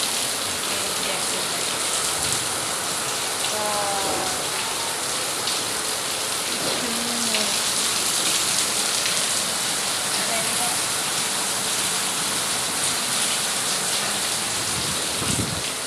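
Steady, dense rain falls close by in a continuous wash that stays at the same level throughout, with a few faint voices and bird calls partly masked underneath.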